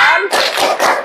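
A class does the "tepuk anak baik" clapping rhythm, several loud bursts of hand claps in a chanted pattern, with voices at the start.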